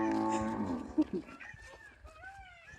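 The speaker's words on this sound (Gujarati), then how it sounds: "એ જો ગાયનો વોઇસ" A cow in a rural natural setting lets out one long, low moo close by, then fades into quieter scattered background sounds.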